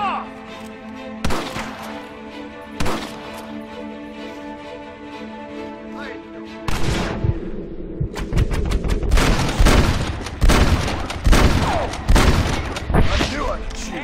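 Shootout gunfire in Red Dead Redemption: isolated sharp shots at first, then a burst of rapid overlapping gunshots and booms that keeps up densely, with shouted voices in the mix.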